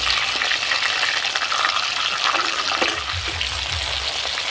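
Chopped tomato stirred and fried in a pan over spice tempering, a loud continuous sizzle with scraping stir strokes throughout, close up and unaccompanied by speech.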